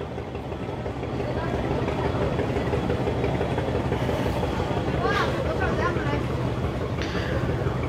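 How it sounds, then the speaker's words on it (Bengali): A passenger river launch on the long route from Khepupara to Dhaka, heading for Buliatuli ghat, drones with a steady low engine rumble, and a voice talks over the constant noise. "তো লঞ্চ চলছে বুলিয়াতুলি ঘাটের উদ্দেশ্যে"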